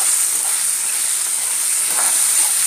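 Tamarind rice tempering fries and is stirred in a pan, giving a steady, loud, close sizzle with a bright hiss that runs unbroken throughout, with faint scraping from stirring.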